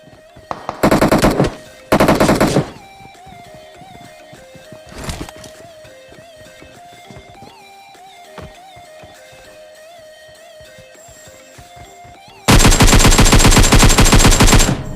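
Fully automatic AKM fire in the battle royale game PUBG comes in loud, rapid bursts: two short volleys, a brief one, scattered single shots and a long final burst.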